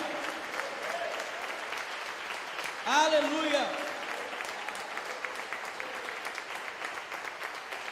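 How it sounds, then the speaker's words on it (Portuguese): A church congregation claps steadily through the whole stretch, a dense sustained patter, while one voice briefly rises above it in the middle. "Dê um aplauso bem forte a Ele"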